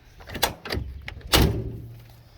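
The door of a 1984 Ford F250 Bullnose truck shuts with a couple of sharp thuds, ending in a firm slam followed by a short rattling decay, heard up close with no talk.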